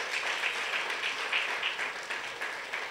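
A church congregation claps in sustained applause, many hands blending into a steady rippling patter that rises and falls slightly at moderate distance, fairly soft overall.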